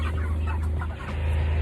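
Soft clucking from about 40 Cornish Cross meat chickens crowded in a coop over a steady low hum, continuous and fairly close.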